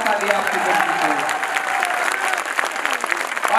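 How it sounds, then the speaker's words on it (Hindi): Audience applause fills a hall during a political speech, with dense, continuous clapping from a large crowd that stays loud throughout and swells slightly at the end. "कमजोर ताली बजी, इस पे और जोरदार ताली आपकी बजनी चाहिए।"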